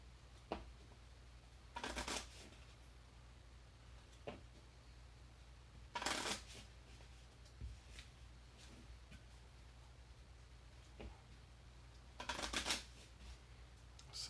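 Physical playing cards are shuffled by hand during a tabletop card game, giving three brisk riffle bursts a few seconds apart with faint taps and handling noises in between, close and fairly quiet.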